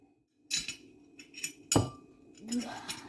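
A spoon clinks against a flour bowl with icing sugar in it, a few sharp, close metallic knocks spaced over a few seconds, with a voice speaking briefly between them.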